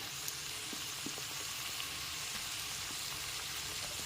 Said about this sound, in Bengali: সমস্ত সবজি এখানে দেওয়া হয়ে গেছে খুব ভালো করে মিডিয়াম ফ্লেমে সবজিগুলোকে ভেজে নিতে হবে